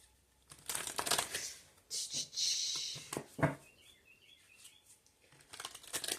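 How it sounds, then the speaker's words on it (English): A loud bird chirps in a short series of bright calls near the middle, set among shuffling, rustling handling noises and brief thumps. "That bird is loud."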